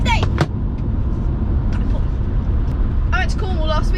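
A BMW E46 car accelerating moderately, its engine a steady, loud drone heard from inside the car, with brief higher-pitched sounds over it.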